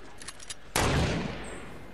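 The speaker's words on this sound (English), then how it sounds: "Shooting!" Gunfire in Fortnite during a squads match: a few faint pops, then a sudden loud burst of shots that rings out and slowly decays.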